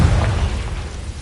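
A Confringo spell explodes in Hogwarts Legacy with a short, deep boom that fades into a low rumble. No voices are heard.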